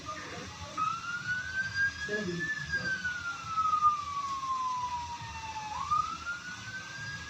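An ambulance siren wails steadily, rising and falling in long sweeps over road noise, with a brief spoken exclamation early on, as the ambulance departs carrying a dead deminer.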